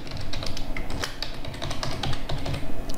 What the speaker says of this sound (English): first we need to type the name of the dictionary